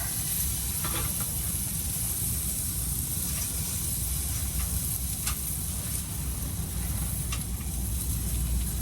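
Brown-and-serve sausage browns in a pan, a steady close hiss with a few faint clicks and no talking.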